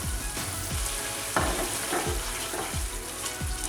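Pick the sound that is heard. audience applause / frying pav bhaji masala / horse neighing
frying pav bhaji masala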